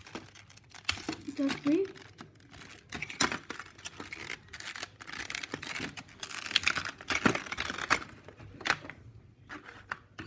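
Tight plastic packaging around a 1:200 Hogan Wings Air India Express Boeing 737-800 scale model being carefully pried open, with crinkling and snipping sounds in irregular bursts close by, and a brief spoken remark partway through.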